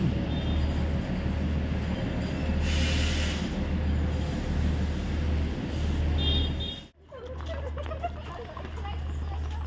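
Matheran toy train rolling along its rails, a steady low rumble with occasional wheel squeal, continuous and fairly close, with people talking faintly in the background.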